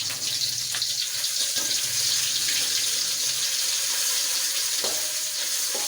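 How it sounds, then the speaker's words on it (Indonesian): Ground spice paste sautéing in hot oil for a traditional Indonesian dish, a continuous close hissing sizzle with faint clinks of stirring throughout. "Sebelum menumis bumbu halus, kita panaskan minyak terlebih dahulu."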